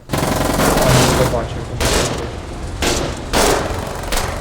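Light mounted machine gun firing in the war game Foxhole, several loud sustained bursts with short pauses between them, heavy and close, with a voice talking over the fire.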